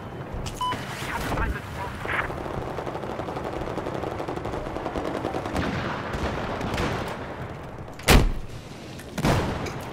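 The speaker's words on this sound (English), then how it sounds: "Who's shooting?" Battlefield 4 gunfire rattles almost continuously in dense automatic bursts, with a couple of sharper loud shots near the end, while someone talks over the action.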